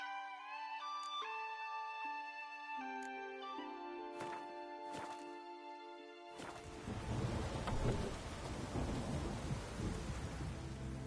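Tonal game music from The Witcher 3: Wild Hunt plays for about six seconds, then gives way to a steady, dense hiss of rain with low rumbling that continues to the end.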